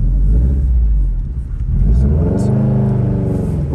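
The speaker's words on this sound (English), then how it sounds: "I will confidently say that there is nothing else that does sound like a Subaru," A 2018 Subaru WRX STI rated at 430 hp rumbles deeply while driving, its revs dipping briefly and then climbing again in a loud, close, steady engine drone.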